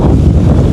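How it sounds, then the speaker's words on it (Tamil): Evening wind blows over a banana plantation in Jaffna, a brief, loud and steady rushing buffet against the microphone. "நல்ல காற்றடிக்குது, சும்மா ஜில்லுன்னு இருக்குது நல்ல காற்று."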